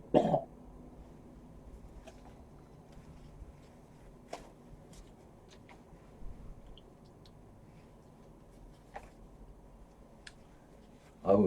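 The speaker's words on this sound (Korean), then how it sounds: "아우 죄송합니다. 갑자기 또 기침이 나와서" A man coughs twice, short harsh bursts at the start and again at the very end, with a quiet room tone and a few faint ticks between them.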